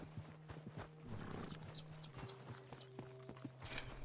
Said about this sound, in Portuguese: Cavalo doidão lá, ó.